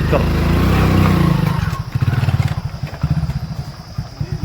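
A motorcycle engine runs close by on a neighbourhood street, its low, steady putter pulsing rhythmically at idle, with voices over it.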